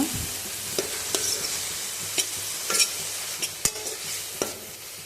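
Tomatoes are stirred into sautéed onions in a pan for a potato gravy. Soft sizzling runs throughout, broken by intermittent scraping strokes of a spoon against the pan, close and moderately quiet, with no talking.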